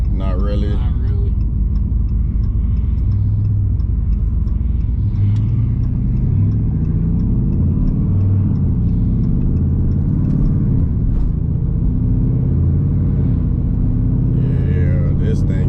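A turbocharged Dodge Charger 392 Scat Pack with a custom turbo kit rumbles steadily from inside the cabin, a continuous loud low engine drone with some swelling, while people talk over it.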